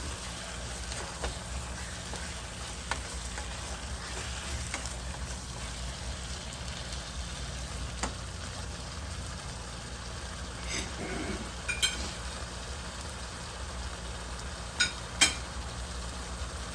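Sausage fries in a pan and gets stirred, giving a faint, steady sizzling hiss over a low hum, with a few soft clicks and scrapes from the stirring.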